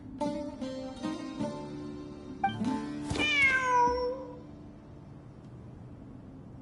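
A cat meowing in the video game Genshin Impact, one drawn-out, rising-then-falling meow, fairly close and clear over game background sound, with no talking.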